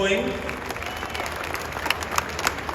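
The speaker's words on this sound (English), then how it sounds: "let's keep the applause going" An audience at the Ghana Health Service Excellence Awards applauds steadily, an even wash of clapping with scattered sharper claps and crowd murmur.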